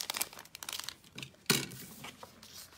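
A small plastic bag crinkles in quiet, irregular bursts of rustling, with one sharper crackle midway, close by and without talk over it.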